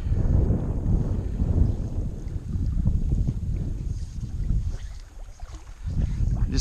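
Strong wind blows across the microphone beside the Medina River during fly fishing, a loud continuous low rumbling buffet that dips briefly before surging again, with no talking.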